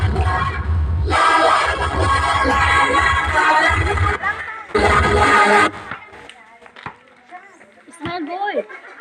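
Audience clapping and cheering at a kindergarten intramurals pageant walk, loud bursts of crowd noise in two stretches that drop away, followed by children's voices.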